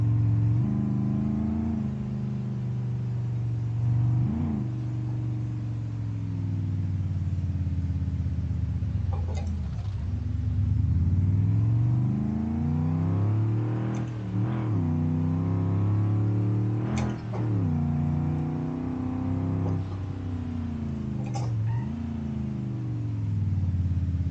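A stock car driving in BeamNG.drive, its engine droning steadily with repeated rev rises and gear-change dips, sustained and close for the whole stretch with no talking.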